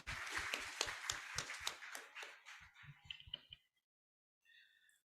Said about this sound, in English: A huge round of applause for CA Gaurav Garg